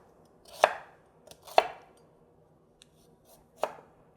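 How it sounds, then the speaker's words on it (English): A knife slices a broccoli stem at an angle on a cutting board, three crisp, close chops spaced about a second or two apart, with quiet gaps and a faint tap between them. "I'm gonna take a broccoli stem and I'm gonna hold my knife on an angle, and I'm going to slice it on an angle into long, thin rectangle-ish pieces"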